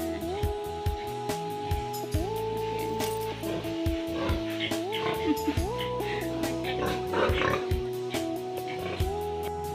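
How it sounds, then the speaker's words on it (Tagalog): Pigs on a farm grunt and oink in scattered bursts throughout, mixed with tonal background noise and a voice in the background. "Binisita ko lang ang mga baboy."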